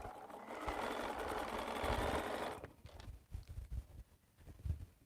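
A sewing machine runs in a close, steady whir as it stitches quilt units for nine-patch blocks, then stops, leaving quieter knocks and handling sounds.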